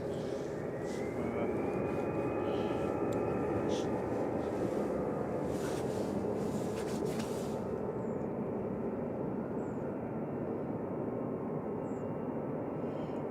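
An EasyJet airliner departs Manchester Airport for Paris on a bitterly cold morning, a distant, fairly faint jet roar holding steady with a rising engine whine early on, later thinning to a softer rumble.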